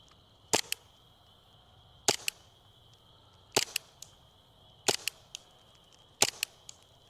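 An airsoft gun fires blue tracer BBs from a BiFrost tracer unit in five sharp, evenly spaced shots, each a crisp snap with a quick echo, over a steady high whine and low background hum.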